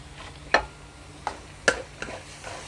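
Chicken stir-fried with glass noodles and cabbage in a pan, a few scattered sharp scrapes and clacks of a spatula against the pan over a faint sizzle, close and fairly quiet, no voices.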